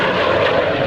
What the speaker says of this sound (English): now, of course, flying this F-86 in the paint job of the United States Air Force